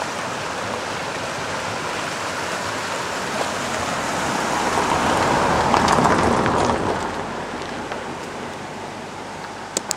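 A Vermont river swollen by Hurricane Irene flooding rushes in a loud, steady broadband roar that swells slightly in the middle and carries on without a break.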